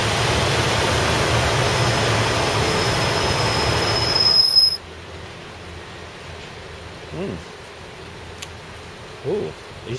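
A train rumbles by with a high steady squeal of wheels, then cuts off abruptly, leaving quiet background with a few faint voices.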